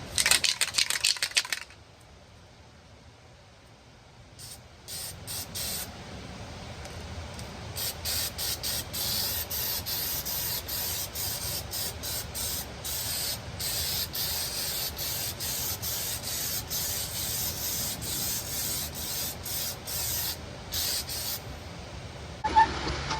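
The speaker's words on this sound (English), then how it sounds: "I'm gonna go ahead and throw some rubberized undercoating on it just to protect it from" Rubberized undercoating sprayed from an aerosol can onto the rear axle cover of a 1999-2003 Ford Super Duty truck, in long, steady hissing bursts with brief pauses, close and fairly loud.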